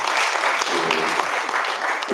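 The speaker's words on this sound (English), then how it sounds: "Members, let's give another round of applause" A round of applause rises for Principal Butanda Shafik at a gathering on street-connected children, dense and steady clapping from a seated audience, fairly loud and unbroken for the whole moment.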